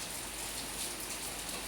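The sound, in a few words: heavy monsoon rain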